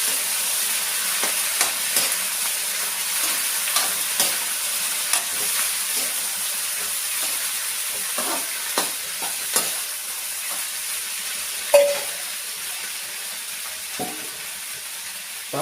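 Small eggplant pieces frying in oil in a pan while being stirred, a steady sizzle broken by repeated scraping and knocking strokes of a spoon, with one sharper clank toward the end.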